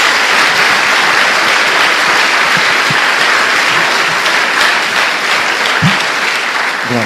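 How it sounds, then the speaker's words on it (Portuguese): A church congregation claps loudly for the Lord, a dense, continuous wash of many hands applauding at close range, steady throughout with a few sharper claps poking through. "Dê uma salva de palmas ao Senhor."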